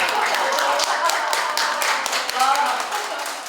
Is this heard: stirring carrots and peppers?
no